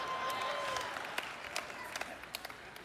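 A church congregation clapping during a sermon, a thin, distant spatter of hands over a steady room hiss, with a few sharper individual claps standing out toward the end.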